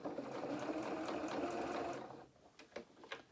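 A sewing machine runs steadily up close, stitching fabric for a doll jacket for about two seconds, then stops, leaving a few light clicks and taps of handling.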